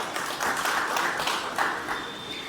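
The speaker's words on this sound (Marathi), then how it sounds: "दिलीप फलटणकर सर यांच्यासाठी सुद्धा जोरदार टाळ्या" Enthusiastic applause rises from an audience for guests at a felicitation event, a dense patter of clapping that holds steady for a couple of seconds, then thins slightly.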